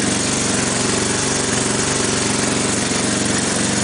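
A motorcycle engine idles steadily just after starting, running as a loud, continuous, even rumble close by.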